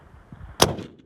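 A Ruger RPR bolt-action rifle chambered in .338 Lapua Magnum fires one loud, sharp shot on an outdoor range in Wales, its report trailing off into a brief rolling echo.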